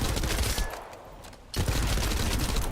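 Video game gunfire rattles off in dense rapid bursts, dips into a short lull, then resumes just as heavily.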